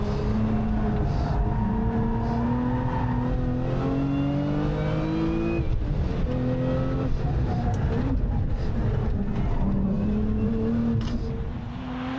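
A Lotus Emira sports car accelerates on a race track with a loud, continuous engine roar that climbs in pitch through several gear changes, heard from inside the car.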